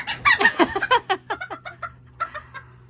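A skittish farm rooster gives a rapid run of agitated clucks and squawks while being caught, loud and close at first, then the calls grow sparser and fainter.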